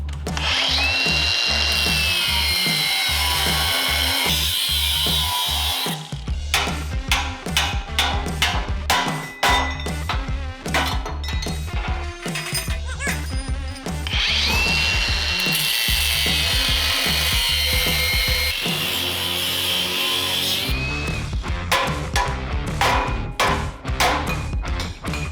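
Power tool cutting a metal tab off a Coleman KT196 go-kart frame to prepare for new axle hangers, loud and continuous with bursts of grinding and rhythmic cutting strokes, no talking.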